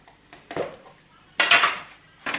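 Dishes and cutlery clink as hot food is served onto a plate, with three or four separate scraping and knocking bursts at close range and quiet gaps between them.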